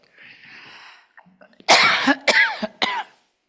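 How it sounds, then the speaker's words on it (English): A faint breathy hiss of hot air blowing, then three or four loud, sharp coughs in quick succession, close to the microphone. "there's hot air blowing in my throat from this thing, it's making me cough."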